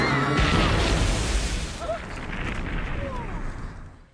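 A loud explosion from the Goosebumps TV episode "Welcome to Camp Nightmare" starts as a heavy broadband roar and slowly fades out over several seconds, with rumbling debris as it dies away.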